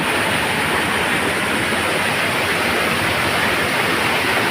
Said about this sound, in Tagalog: Lakas talaga ulan dito.